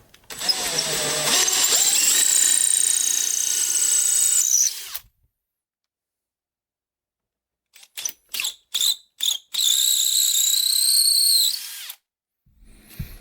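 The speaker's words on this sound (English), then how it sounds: "we drill 1/4-inch holes into the base" A power drill bores 1/4-inch holes into a wooden boot jack base, first one long whining run, then silence, then several short bursts followed by another sustained whine, close and loud.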